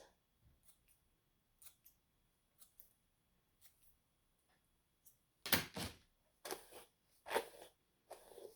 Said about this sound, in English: I take the thinning shears to it